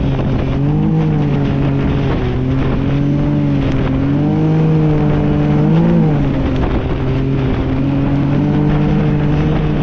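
A Can-Am off-road vehicle rips along a sand dune ridge at St. Anthony's Sand Dunes, its engine droning steadily at high revs with pitch rising and dipping as it climbs and crests, loud and continuous throughout.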